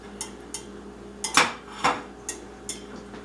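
A whisk scraping and clinking against a skillet while butter melts, producing a series of sharp metallic taps and scrapes spaced irregularly, close and fairly clear with no talk.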